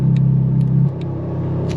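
A Ferrari 430 Scuderia exhaust with the exhaust trick button engaged, a loud close rumbling drone that drops abruptly to a lower, quieter idle burble partway through.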